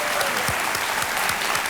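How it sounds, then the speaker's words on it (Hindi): Studio audience applause on a televised quiz show, a steady, dense wash of many hands clapping that fills the whole moment without a break. "तालियों के साथ अभिनंदन पंकज पचौरी जी।"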